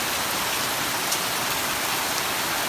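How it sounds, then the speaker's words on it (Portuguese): Heavy rain pours down steadily and loudly, a dense, constant hiss of falling water with no voices, at the start of the rainy winter season. "Chuva de verdade."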